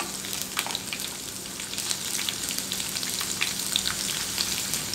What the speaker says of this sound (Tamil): அதையும் லேசாக எண்ணெயில் வதக்கி விடலாம்.